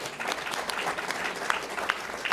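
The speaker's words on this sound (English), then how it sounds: "Round of applause." Audience applause at a public forum on Illinois school funding, a dense, steady patter of many hands clapping throughout, moderately loud and without talk over it.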